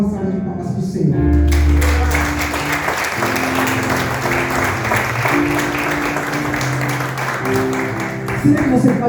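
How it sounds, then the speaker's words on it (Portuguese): Church congregation applauding during a worship service, dense sustained clapping mixed with sustained organ or keyboard tones and a low bass note, a voice speaking over it near the end. "Dá uma salva de palmas para o Senhor."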